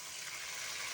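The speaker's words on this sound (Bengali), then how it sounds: "তো আমি ডাবের জলটা এতে দিয়ে দেবো" Coconut water pours steadily into a cooking pan of simmering prawn gravy, giving a continuous quiet splashing gush with no break.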